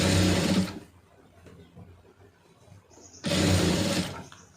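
A sewing machine stitches fabric pieces in two loud, close bursts of rapid whirring with a quiet pause between them, no voices.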